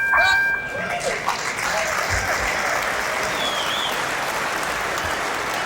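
Crowd applause fills a boxing arena, the Hislop Sports Arena on the University of North Dakota campus in Grand Forks, during a heavyweight bout; steady clapping and crowd noise run throughout beneath a commentator's voice.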